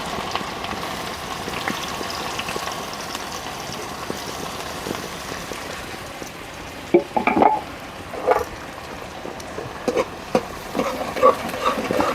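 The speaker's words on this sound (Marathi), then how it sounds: "कांदा फोडणीला टाकून परतेपर्यंत" A continuous crackling sizzle of onion frying in tempering oil on a wood-fired stove, with occasional clicks and scraping stirs becoming more noticeable toward the end.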